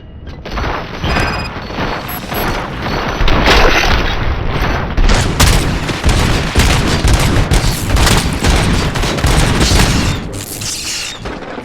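Heavy gunfire fills a firefight in the video game Robocop Rogue City, with dense bursts of shots and booming impacts running almost continuously at close range and loud throughout.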